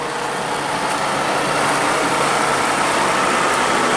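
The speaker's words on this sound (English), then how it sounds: "It's a big old truck." A big old International 18-wheeler truck's engine runs steadily nearby, a loud continuous broadband rumble with no breaks across the whole stretch.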